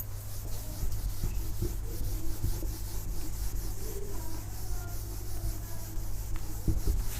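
A board being wiped clean of writing, giving a steady rubbing scrape that runs throughout at close range with no talk over it.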